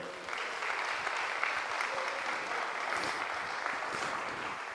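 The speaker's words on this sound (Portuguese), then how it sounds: "Você pode dar uma salva de palmas ao Senhor?" A church congregation breaks into loud, sustained applause that fills the room evenly from start to finish, with a few faint voices mixed in underneath.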